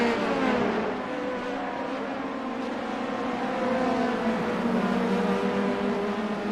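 Race car engines in the iRacing simulator at Sebring, a continuous loud engine drone with steady harmonics and a slight pitch shift as a prototype car runs close alongside.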